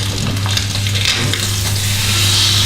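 Duck frying in a hot pan for a honey roast duck dish, a steady loud sizzle and crackle of fat throughout, close up, with no talking.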